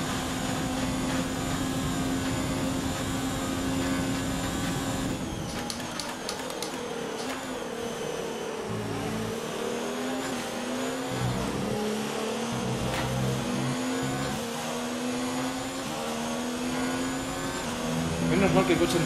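Formula 1 car engine in the F1 2019 racing game, a steady high-pitched whine that shifts pitch with gear changes and throttle, continuous and loud throughout with faint talk at times.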